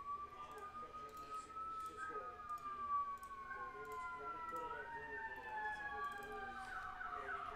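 Several emergency sirens wail and sweep in overlapping tones at a distance, faint and continuous behind an indoor room.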